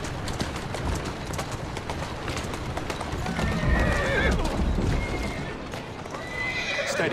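Horse hooves clip-clop steadily on a hard surface in the video game Assassin's Creed Syndicate while a horse neighs loudly partway through, with faint background ambience and no speech.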